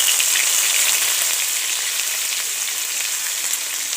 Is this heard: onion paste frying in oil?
yes